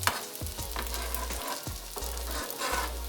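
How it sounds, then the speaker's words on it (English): Vegetables stir frying in a pan for ham fried rice, a steady loud sizzle with repeated scraping and tossing strokes of the utensil, no talking. "it's time to start stir frying our vegetables"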